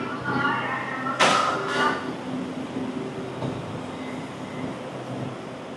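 Metro train heading to Ben Thanh in Vietnam, a low rolling rumble inside the carriage with a sharp thump early on and a muffled voice or announcement in the background.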